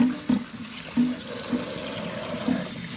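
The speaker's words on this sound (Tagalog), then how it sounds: "Hugas na natin ang talbos kamote at malunggay." Sweet potato leaves and moringa are washed under a running kitchen tap, with a steady splash of water broken by several short louder gushes as the greens are moved through the stream.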